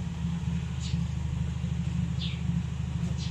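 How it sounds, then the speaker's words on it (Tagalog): Steady low engine hum and road rumble heard from inside a moving car, constant and moderately loud with a few faint higher sounds passing. "So nasa kotse na tayo and on the way na ulit tayo sa vet"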